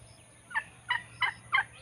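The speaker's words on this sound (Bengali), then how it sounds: "আমি 2টা টার্কি মুরগি দিয়ে শুরু করেছি আমার টার্কির খামার।" A turkey on a turkey farm gobbles in four quick, evenly spaced bursts, fairly close and clear against a quiet background hum.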